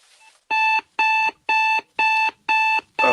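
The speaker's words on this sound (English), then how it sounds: "An alarm clock beeping." A digital alarm clock beeps loudly in a steady repeating pattern, six evenly spaced bright electronic tones about half a second apart, heard up close with no voices over it.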